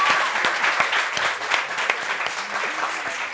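Audience applause breaks out for a woman at a gathering in Réunion, a dense, steady wash of many hands clapping at close range for the whole stretch, with no voices over it.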